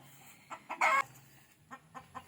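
A round head backyard hen clucks in a few short, close bursts, with one louder squawk in the middle against a quiet yard.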